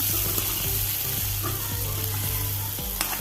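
Cashews frying in a pan and being stirred, a continuous close sizzle with rhythmic scraping strokes of the spoon every half second or so, no talking.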